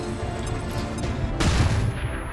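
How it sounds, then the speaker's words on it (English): A flashbang grenade goes off in the turn-based strategy game XCOM 2, a single sharp, loud blast partway through over a steady low game soundscape. "we'll use the flashbang to get rid of the sentry for now"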